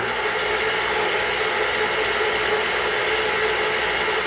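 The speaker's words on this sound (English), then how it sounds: "I'm gonna Gonna whisk this up and get us some meringue for our cheesecake." Steady, loud whirring of an electric mixer whisking egg whites with cream of tartar into meringue for a lemon meringue cheesecake, a continuous even drone with no pauses and no talking.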